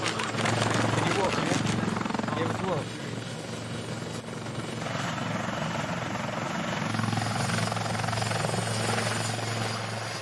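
A helicopter airlifting casualties gives a steady, loud rotor thump and engine roar that holds throughout, with no pauses.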